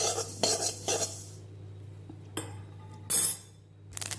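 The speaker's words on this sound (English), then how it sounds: "you can hear the noise of the till or sesame seeds popping up" Metal utensil scrapes and clinks in a hot kadai come in short bursts, with a faint crackle of sesame seeds popping over a low steady hum.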